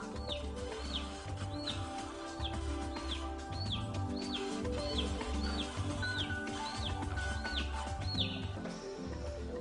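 Repeated high chirps from a chick, calling about once a second at a steady rhythm over a dense low hum and background noise.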